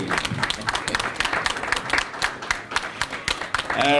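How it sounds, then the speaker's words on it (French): Dense applause from a crowd at a conference award ceremony, many hands clapping steadily for several seconds, with a voice rising at the very end. "Join me in applauding."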